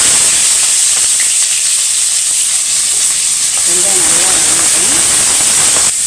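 Chopped onions go into hot fat in a pan for a South Indian soya chunk curry, giving a loud, continuous hiss and sizzle close by, with a voice briefly talking over it midway.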